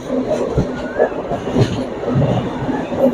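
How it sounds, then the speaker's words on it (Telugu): Train passing by a small station on the Visakhapatnam to Secunderabad route, heard from aboard an AC superfast express: a steady rumble and clatter of carriages with some squeal, moderately loud and continuous. "ఇదే ఉంటే చూడండి ఇప్పుడు ట్రైన్ వెళ్తుంది."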